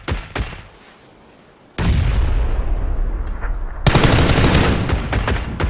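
In a PUBG match, loud gunfire in a rapid automatic burst is followed by dense, sustained shooting and explosive booms that fill the soundscape, close and heavy.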